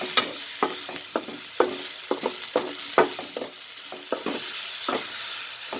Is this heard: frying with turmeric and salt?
yes